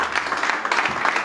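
A church congregation claps in acclaim of Jesus during a memorial tribute, a dense, steady wash of many hands filling the space for a moment with no break.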